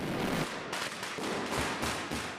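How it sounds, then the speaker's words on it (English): Firecrackers at Valencia's Las Fallas festival crackle in loud, dense bursts, a rapid rolling barrage of close pops surging and easing in waves with no voices over it. "Valencia's 2-week-long Las Fallas festival erupts day and night with elaborate pyrotechnic displays seen nowhere else on Earth."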